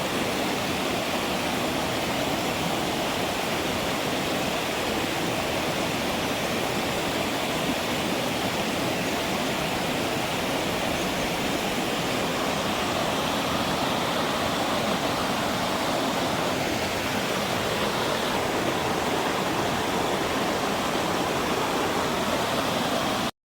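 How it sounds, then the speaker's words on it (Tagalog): Tumpag Falls roars with strong flowing water, a loud, dense and constant rushing wash that continues unbroken for over twenty seconds with no talking. "So, andito pa tayo sa Tumpag Falls."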